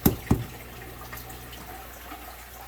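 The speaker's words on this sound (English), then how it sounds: "So now we're draining this 20 gallon, 10 gallon, 55 and 40 gallon" Water running out of several aquarium tanks (20, 10, 55 and 40 gallon) in a fish room during a water change, opening with two sharp drip-like splashes, then a steady low trickle.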